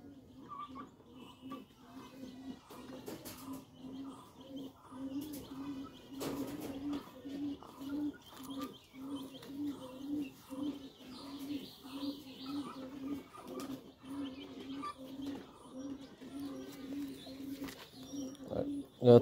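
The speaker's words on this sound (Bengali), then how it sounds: "তো প্রথম হচ্ছে টেডি নর কবুতরটি দেখেন" Teddy male pigeons coo in a steady, repeating rhythm close by, soft throaty calls running continuously with faint chirps and rustles in the background.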